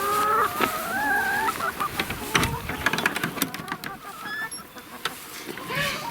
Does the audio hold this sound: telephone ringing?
no